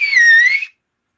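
A man imitates his father's whistle from the front porch with a single sustained, slightly wavering whistle lasting under a second, loud and close, with no talk during it.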